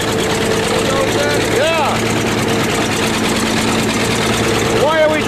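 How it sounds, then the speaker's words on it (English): A bulldozer's diesel engine chugs in a loud, constant low rumble as it drives on a farm, with a rhythmic knocking texture and short squeaks of moving parts; people talk over it. "Why are we driving the bulldozer?"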